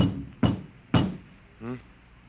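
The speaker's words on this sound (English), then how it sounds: "There was a knock on the door." Two firm knocks on a door, evenly spaced and close, as a radio drama sound effect, followed by a brief voiced murmur.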